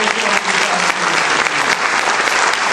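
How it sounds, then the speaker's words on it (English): Dense, sustained applause from a large audience at a graduation ceremony, loud and steady the whole way through with no break. "let's give another round of applause to the people that made all this possible"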